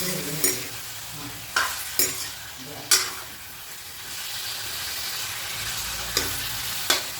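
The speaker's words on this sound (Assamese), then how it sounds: "বাৰু এতিয়া অলপমান ভাজি লওঁ এনেকৈ" Pork frying in a pan while being stirred, a steady close sizzle broken by several sharp scraping clatters of the utensil against the pan at irregular intervals.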